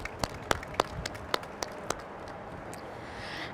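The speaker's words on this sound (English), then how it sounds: "I'm going to give you a round of applause." Sparse applause at a groundbreaking news conference, with a handful of distinct, separated claps in the first two seconds, then fading into quiet room noise.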